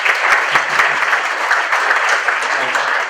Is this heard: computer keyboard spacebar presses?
no